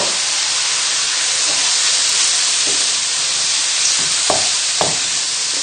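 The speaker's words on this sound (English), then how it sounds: "So just tip the rice straight in and give it a stir." Risotto rice tipped into a hot pan with butter and oil for a creamy mushroom risotto, then stirred: a steady, close hiss and sizzle, broken by a few soft scraping knocks from the spoon.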